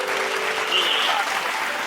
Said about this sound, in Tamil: கையத்தட்டு.